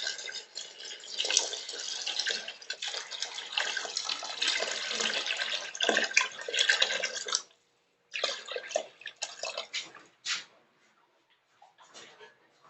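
Water pours into a pot of potato and cabbage rice, a close, steady splashing stream that breaks into short bursts and stops.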